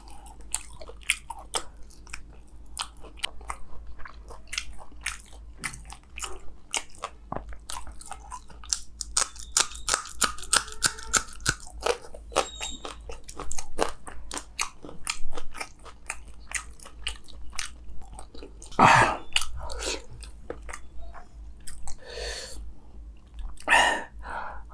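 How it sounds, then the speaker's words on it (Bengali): Close, crisp chewing and biting while eating mutton leg curry, with a dense run of wet crunches and smacks, loud and intimate and without talk. "ভাত খাই ফেলছি, এখন শুধু খাসি মাংস খাওয়া।"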